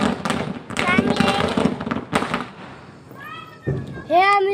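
Firecrackers burst in front of a bungalow: several sharp, loud bangs come in the first couple of seconds, then children talk and shout nearby.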